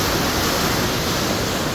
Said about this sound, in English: This is where the water literally goes underneath me.